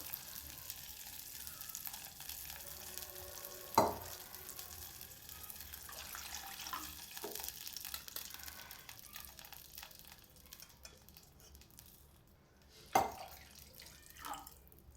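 Water splashes into a pan in two brief bursts while making rava kesari, surrounded by a faint steady sizzle and quiet kitchen background.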